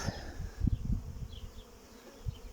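Carniolan honey bees fly around a hive during the rapeseed bloom, making a constant, close buzzing drone with a few louder passes of single bees near the microphone.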